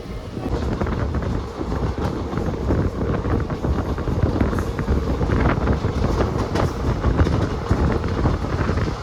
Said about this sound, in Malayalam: വണ്ടി സ്ലോ ആയിട്ട് പോകുന്നത് കേട്ടോ